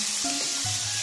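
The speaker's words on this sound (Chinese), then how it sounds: "把准备好的姜片也放进去炒香" Pork ribs and ginger slices stir-frying in caramelized sugar in a wok, giving a continuous close sizzle with brief scraping tones from stirring.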